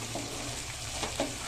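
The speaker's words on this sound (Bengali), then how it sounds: "এখন এটাকে একটু এখন আমি ভেজে নেব।" Raisin, cashew and green chilli paste fries in a pan for egg korma, a steady low sizzling hiss with a couple of faint stirring scrapes.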